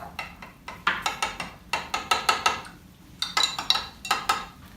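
Metal spoon stirring honey into hot tea in a cup, a quick series of bright clinks against the sides, close and fairly crisp, with a brief pause midway.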